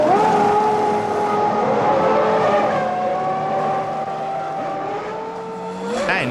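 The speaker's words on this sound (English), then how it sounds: "Hill is the first Williams to come in for tyres, but loses crucial seconds following Andretti's McLaren into the pit lane" Formula 1 cars at the 1993 French Grand Prix, a Williams following a McLaren into the pit lane, engines droning loud and steady at high pitch, tones shifting as cars slow and pass, with a rising whine near the end.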